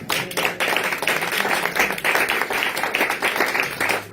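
A church congregation claps and cheers for Jesus during a worship service. The applause is steady and dense throughout, with many hands clapping together at close range and a few voices mixed in.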